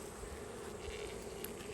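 A steady, faint drone of honey bees buzzing at an open hive in decline, a continuous hum without breaks, soft and distant, with no talk.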